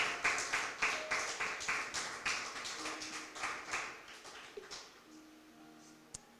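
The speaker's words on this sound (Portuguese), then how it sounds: "Dê uma salva de palmas a Jesus." Congregation applause at an Easter church service, a burst of rhythmic clapping from many hands that thins out and fades over several seconds, with no one talking.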